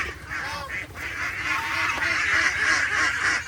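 A flock of domestic ducks quacks busily and repeatedly while feeding, with close overlapping calls and a faint voice underneath.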